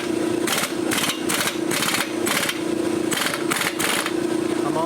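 Pneumatic air impact gun loosening blade bolts on a Harbor Freight woodchipper flywheel, loud close rattling hammer bursts repeated in quick short pulses over a steady compressor-like hum.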